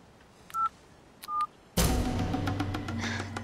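Telephone keypad dialing: two separate short electronic beeps in a quiet room, then an abrupt jump to louder, busier background noise with faint tonal ringing.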